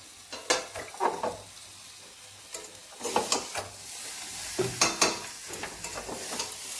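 Oil going into a hot wok for marinated chicken sizzles and crackles, with bursts of broadband spatter and a few soft stirring scrapes and clinks, close and moderately loud, with no one talking.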